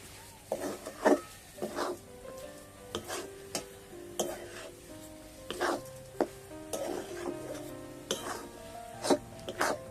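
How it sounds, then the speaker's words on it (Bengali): A spatula scrapes and stirs grated coconut and sugar in a pan, soft repeated scraping strokes at an irregular steady pace, close and fairly quiet with light sizzling underneath. "আর অনবরত খুন্তি নাড়াতে থাকবো।"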